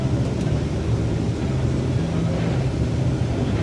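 A combine harvester works its way through a bean field on a calm evening, its engine giving a steady, loud, unbroken low rumble and drone from start to finish, with no voices.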